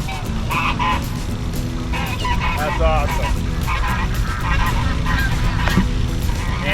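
Ducks and geese honk and quack repeatedly at a pond over a busy, noisy background of bubbling aeration, with a brief spoken remark mixed in.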